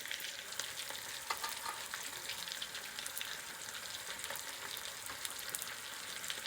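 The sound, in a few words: Dominican meatballs frying in a pan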